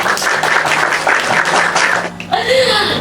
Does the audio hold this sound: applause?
yes